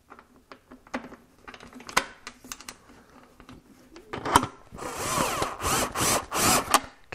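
A screw and nut are tightened on an extraction duct being installed in a joinery workshop, with sharp irregular clicks and taps followed by a louder burst of ratcheting, rattling tool noise close by.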